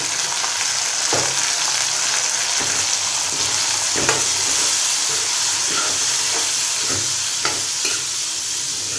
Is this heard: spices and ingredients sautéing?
yes